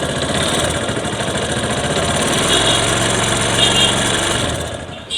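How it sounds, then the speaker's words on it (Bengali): A Bajaj Discover 135 motorcycle with an engine fault idles roughly and continuously nearby, giving a loud, steady mechanical rattle with no talk over it. "বাইকের ইঞ্জিন থেকে একটা বাজে শব্দ আসতেছে"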